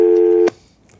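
A telephone line gives a steady, loud electronic tone with no one on the other end. It cuts off abruptly with a click halfway through and leaves faint room noise.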